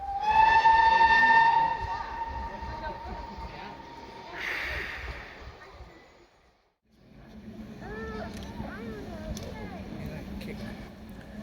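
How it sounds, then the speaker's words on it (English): A steam locomotive hauling a train of LNER teak-liveried Gresley coaches gives a clear whistle at the start, followed by a steady rumble of the moving train nearby that dips briefly before resuming. "She's hauling a train made up mainly of coaches designed by Sir Nigel Gresley and turned out in the LNER's teak livery."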